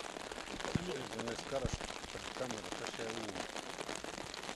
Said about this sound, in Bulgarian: Надеждата да спре този дъжд.